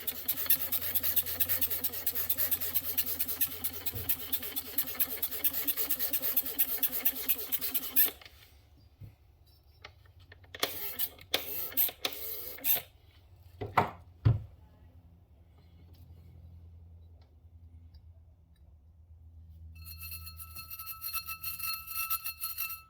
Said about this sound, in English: all I'm going to do is go scrub everything